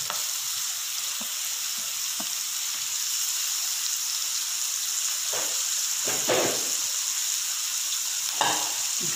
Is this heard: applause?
no